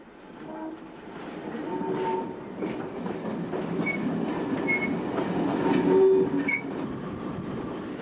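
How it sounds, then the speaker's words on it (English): West Clare 0-6-2 tank steam locomotive, built by Dubbs and Company in Glasgow in 1892, pulls a goods train out of Corofin, a rumbling clatter building in loudness with a short whistle-like tone near the end. "the only West Clare locomotive to have been preserved, leaves Corofin with the goods to Kilkee"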